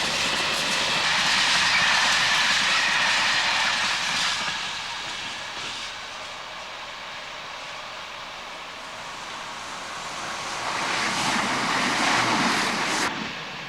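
A freight train of empty RMC hoppers rushes through Bamford Station in the Peak District, a loud sustained roar and rattle that eases in the middle before swelling again and cutting off.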